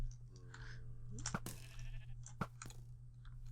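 A sheep in Minecraft ridden by a jockey mob bleats faintly once, mixed with sharp crunchy clicks and a steady low hum, no talking.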